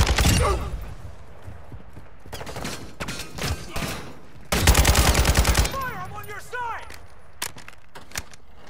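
Call of Duty: Modern Warfare II gunfire during a hostage rescue: loud bursts of automatic fire at the start and a dense rapid volley midway, with a voice talking between them.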